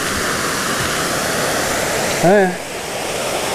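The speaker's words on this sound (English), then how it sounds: "I hear more rushing water." Steady broadband rushing of a river along the Superior Hiking Trail, continuous and fairly loud throughout, with a brief spoken exclamation partway through.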